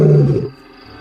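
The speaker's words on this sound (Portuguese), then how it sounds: "O rugido dele era dos mais estranhos e incríveis de todos os leões." A wild male lion roars, one loud, deep, close roar that fades out over about half a second into quiet.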